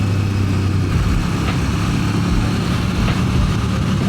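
Motorcycle engine droning steadily while riding along a country road with a group, a loud, close, continuous low rumble with no break and no voices.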